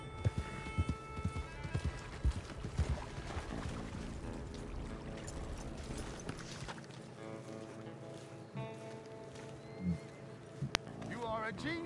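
Horse hooves clip-clop steadily as a rider gallops in Red Dead Redemption 2, the rhythmic beats running under music and voices, with a brief whinny.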